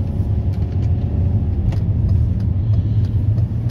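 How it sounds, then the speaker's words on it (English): A car driven in manual style after years of automatics, its engine and road rumble loud and steady throughout, with slight rises that could be revs between gears. "So I've been trying to drive this car like a manual"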